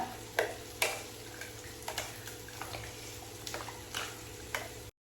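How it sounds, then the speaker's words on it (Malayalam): Yogurt being stirred into a bowl of salad, a run of soft scraping and clicking strokes at close range with an irregular rhythm and no voices. "തൈര് ഒഴിച്ചിട്ട് നന്നായിട്ട് ഇളക്കുക."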